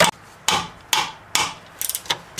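Four sharp metallic hammer strikes on a wrench loosening a tight bolt ring out at a steady pace, followed by a quick cluster of lighter taps, close and loud, during rear strut replacement on a 1999 Pontiac Grand Prix.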